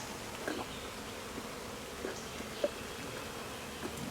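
Honey bees hum at a top bar hive in a dense, soft, continuous drone, with individual bees buzzing past now and then.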